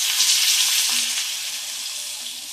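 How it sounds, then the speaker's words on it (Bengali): Water poured into a pan of nearly fried potatoes sets off a loud, dense sizzle that fades gradually as it settles, with a faint low hum underneath. "এবার দেবো এর মধ্যে জল"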